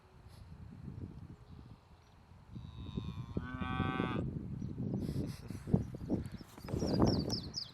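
Cattle mooing in a small cow pasture at Marble Hill, Missouri: several drawn-out lowing calls rise over a steady outdoor rustle, with the strongest call in the middle and more moos following at moderate distance.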